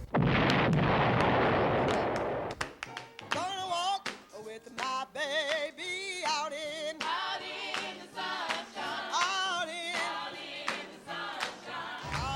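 A loud roaring blast fills the first couple of seconds, then fades out as a voice starts talking.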